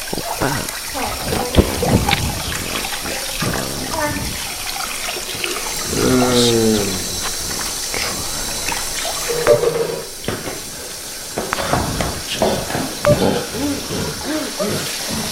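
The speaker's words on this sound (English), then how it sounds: "We've washed it off. Rinse it." Water runs and splashes from a tap while something is rinsed off, a steady flowing wash under frequent overlapping talk and movement noise.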